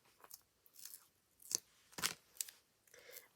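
Scissors snip through paper to cut out a stamped sentiment, a few short crisp cuts and rustles spaced irregularly, close and fairly quiet.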